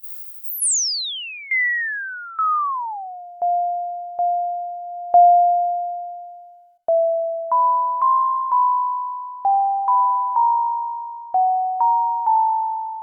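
White noise runs through a highly resonant filter on a Replay synth, first sweeping down in pitch, then settling into a sequence of plucked, xylophone-like notes with sharp attacks and quick decays, stepping between a few pitches with nothing else underneath.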